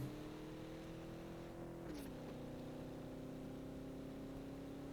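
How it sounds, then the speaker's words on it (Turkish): A car engine droning steadily in PUBG, a vehicle that won't pick up speed: a constant mid-pitched hum with a brief dip in pitch partway through, then running on evenly. "Araba gitmiyor."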